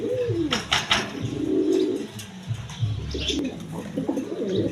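A pair of beauty pigeons, kept for sale with a nesting hen, coo up close in several soft, throaty bursts, with brief chirps and a faint flutter of wings between the calls.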